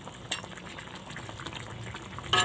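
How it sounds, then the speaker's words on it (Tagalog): A fish stew with chili and coconut milk comes to a boil in a pot, bubbling softly and steadily with a few louder pops and clinks near the start and the end. "Kulo muna natin guys."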